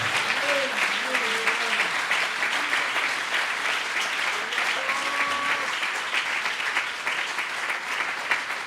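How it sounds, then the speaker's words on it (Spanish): A church congregation at a convention service in Aruba applauds loudly and continuously, with voices and shouts mixed in over the sustained clapping. "A ver ese aplauso fuerte,"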